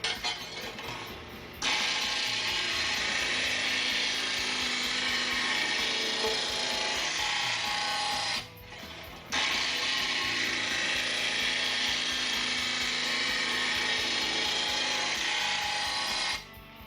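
A grinder sharpens a lawn mower blade in two long, loud grinding passes of about seven seconds each, split by a brief pause, with no talking.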